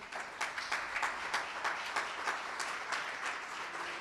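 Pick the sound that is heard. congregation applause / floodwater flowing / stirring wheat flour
congregation applause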